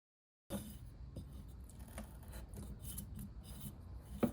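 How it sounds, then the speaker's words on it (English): Hand chisels and a Dremel rotary tool with a small sanding drum shape a wooden pinewood derby car body into a NASCAR-style roof line, giving a quiet, close, steady rasping and scraping with small taps and scratches. "I'm going to try getting the rough shape with some hand chisels and a Dremel rotary tool with a small sanding drum"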